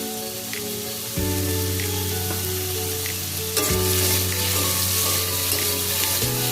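Potatoes and onions fry in a pan for a fish curry, a steady close sizzle with a few utensil clinks that grows louder and denser about halfway through, with no voices.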